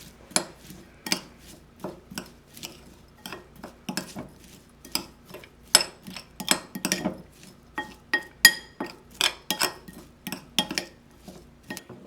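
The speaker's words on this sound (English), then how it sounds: "We're going to give this a good mix." Cucumber kimchi ingredients being mixed in a bowl, with a rapid run of clinks and scrapes of a utensil against the dish, loud and close, growing busier partway through.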